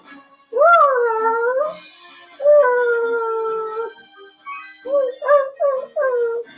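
Puppy-like monster from the video game Final Fantasy Tactics howling: a long drawn-out yowl, a second sustained howl, then a quick run of shorter yelping cries, all loud and close with no talk.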